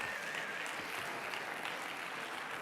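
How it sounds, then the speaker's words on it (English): A conference audience at Entrepreneurship Avenue 2023 applauds in a steady, dense wash of clapping that stays even and fairly distant throughout. "So another big round of applause to our mentors and speakers and jury members"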